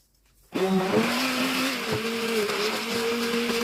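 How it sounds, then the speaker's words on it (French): An electric hand mixer whirs steadily as it blends cake batter with cream, switching on abruptly after a short silence and holding a loud, even motorized whine. "avec un mixeur spécial, vous allez mixer la pâte et la crème."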